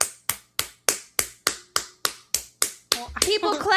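Knuckles knocked together in a sharp, evenly spaced series of about eleven close, dry raps, followed by a brief burst of talking.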